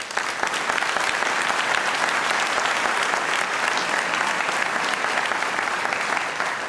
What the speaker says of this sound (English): Please join me in giving a collective round of applause to the individuals and organizations that are here tonight